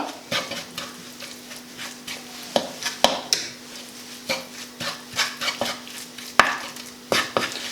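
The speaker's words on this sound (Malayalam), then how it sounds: "രണ്ട് സ്പൂൺ ഇടാം നിങ്ങൾക്ക് അതിനുശേഷം ഇന്ന് ശരിക്കും ഇളക്കുക" A spoon stirs chili sauce with Kashmiri chili powder in a pan, giving repeated scraping strokes and sharp clinks over a soft underlying sizzle, with no voices.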